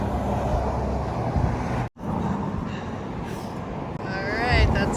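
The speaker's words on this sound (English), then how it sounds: "It's a busy road." Traffic rumbles along a busy road beside a Tahoe hiking trail, a steady broadband wash of passing vehicles with a brief dropout, then a closer whooshing pass near the end.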